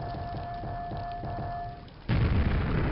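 A grenade explosion in the video game Quake lands as a sudden loud boom about two-thirds through, following quieter rhythmic game sounds and a steady electronic tone, then leaves a rumbling tail.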